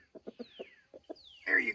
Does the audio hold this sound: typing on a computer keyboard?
no